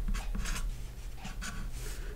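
Pen or pencil scratching on paper while a math sum is written out, a few short close strokes in uneven bursts over a low background hum.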